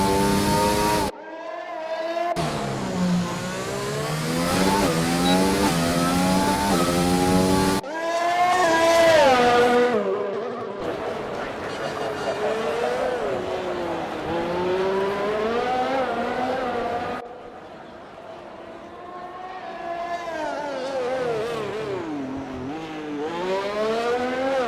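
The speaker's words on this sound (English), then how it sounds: "Here we've got Max, the first car out, that is just gone past Castle now" Race cars in the FSC racing video game at Baku City Circuit, engines revving loudly and continuously with rising and falling pitch as they accelerate and shift gears, briefly cutting out between passes.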